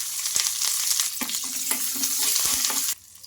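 A tempering of cumin, mustard seeds, green chillies and curry leaves sizzles hard in a pan with spoon scrapes and stirring clicks, then the crackle suddenly drops away near the end.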